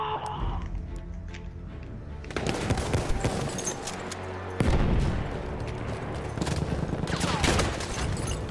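Automatic and rapid gunfire bursts in Battlefield 1 during a capture-the-flag match, dense crackling volleys and booms, loud and close, with heavy firing building after a brief quieter start.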